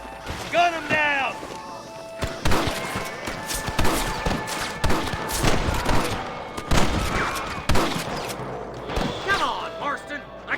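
Gunfire in the video game Red Dead Redemption: repeated sharp, loud shots crack out in irregular bursts across the scene, mixed with shouted voices and mechanical clatter, with echoing reports between them.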